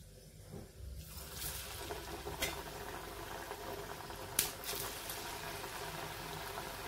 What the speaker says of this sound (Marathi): आता आपण ह्या चकल्या तळून बघूया